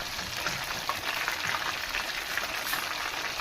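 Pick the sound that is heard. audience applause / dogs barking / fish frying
fish frying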